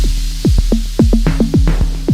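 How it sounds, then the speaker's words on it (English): Drum machine hand clap sample treated with reverb, repeated snappy hits in a loose rhythm, each trailing a short wash of sizzle over a sustained low tone, loud and upfront without talking. "Let's add some reverb to it"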